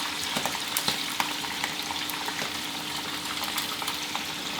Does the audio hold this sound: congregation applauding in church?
no